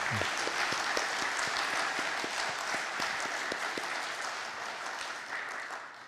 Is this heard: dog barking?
no